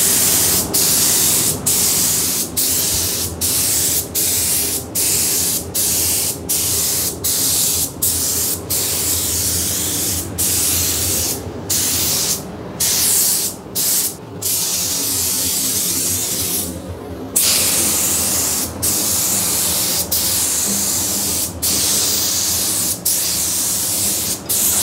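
A spray gun laying down wine red paint in a run of short, evenly spaced hissing bursts, then several longer sprays, loud and close with no talk.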